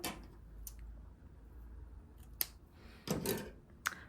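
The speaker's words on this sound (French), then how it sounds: "On prend le ruban, on le plie en deux et on le coupe." Scissors cut a ribbon folded in two, giving a few sharp, close snips and one short sliding cut in a quiet room.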